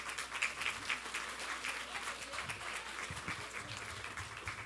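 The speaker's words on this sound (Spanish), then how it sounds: "un aplauso para el juzgado de apelaciones en pensiones." An audience applauds at a court event, steady, fairly quiet clapping heard from a distance with little talk.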